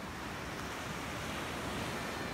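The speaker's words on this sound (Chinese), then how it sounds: "来让大家听一下海浪声" Ocean surf rolls onto Waiao Beach in Toucheng, Yilan, a popular surfing spot. The sound is a continuous, full roar of breaking waves with some wind, loud and steady and heard alone.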